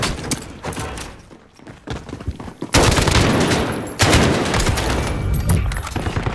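AK rifle gunfire in a shooter game, rapid bursts of close, loud automatic shots with sharp cracks, a brief lull, then heavier sustained fire with thuds and impacts.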